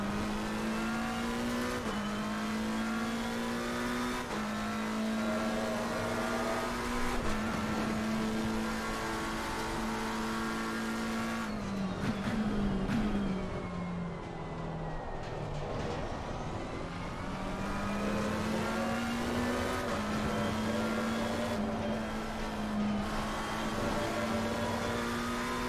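Race car engines in Assetto Corsa Competizione, including an Audi GT3 car, drone and rev steadily in a close, continuous whine, dipping briefly through a corner with pitch swoops before climbing back to full throttle.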